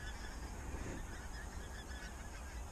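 A dense flock of pink-footed geese honks continuously on a frosty marsh, many overlapping calls forming a steady, distant-to-mid-range clamour with no voices.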